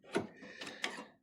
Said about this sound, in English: we'll probably put the socket set back on here now, because I don't think now it's loose